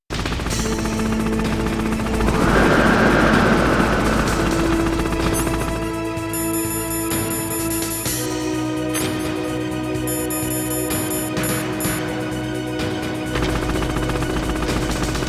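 A Hind attack helicopter with machine gun fire from the game Metal Gear Solid: rapid bursts of gunfire over a droning rotor hum and steady synthetic tones, loud and continuous.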